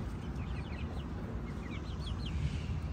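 Young chickens cheep and cluck softly in a coop, several brief chirps in small clusters, faint against a steady low rumble of background noise.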